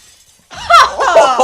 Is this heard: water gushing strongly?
no